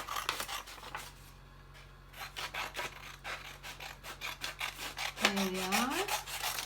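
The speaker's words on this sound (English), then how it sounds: "I'm going to cut this with scissors" Scissors snip through paper at a craft table in a close run of quick, rhythmic cuts, pausing briefly partway, followed by a short spoken remark near the end.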